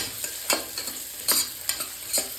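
Green peas fry on a medium flame for tomato bath, a soft continuous sizzle broken by regular spatula scrapes and stirs, close up with no talking.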